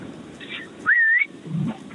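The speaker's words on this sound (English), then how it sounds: "I whistle wherever I am, whether it's shops, out the street, or anywhere." A sharp, clear human whistle used to call a husband rings out once, rising and wavering briefly, loud and close, between stretches of quieter background sound.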